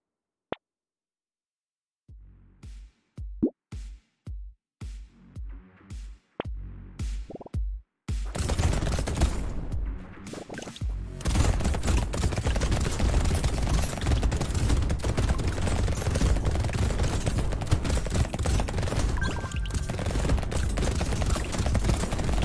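Shotgun and turret fire in Brotato: a run of separate sharp shots gives way to a dense, continuous rattle of rapid gunfire that keeps going loudly to the end.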